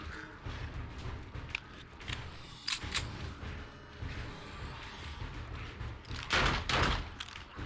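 Bursts of gunfire from the zombie survival game 7 Days To Die, a scattered run of sharp cracks and impacts spread unevenly across the scene, moderately loud with ambient game noise between shots.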